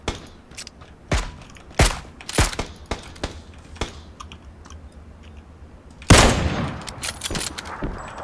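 Gunfire in PUBG Battlegrounds, an M16 in squad play: several sharp single shots spaced irregularly, then a louder close burst around the six-second mark, with clicky keyboard noise mixed in.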